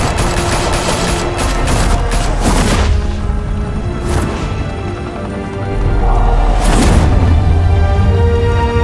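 Gunfire in the Batman: The Telltale Series video game, loud sustained bursts of shots and booms over a dense, noisy action soundtrack, with heavy rumbling throughout.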